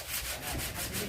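Wood being sanded by hand with sandpaper, a close, rhythmic rasping of back-and-forth strokes, about three quick passes in a second.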